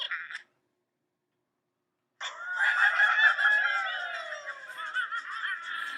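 Success sound from an Angry Birds coding puzzle game on completing a correct solution: a short blip, a pause, then a bright chirpy cartoonish bird-like squawk and chatter lasting several seconds, clear and moderately loud.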